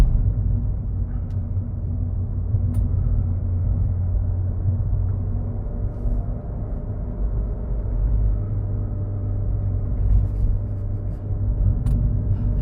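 A 2017 Ford Fiesta ST cruises on backroads from inside the cabin, a steady low engine and road rumble droning evenly with no talk and only a few faint clicks.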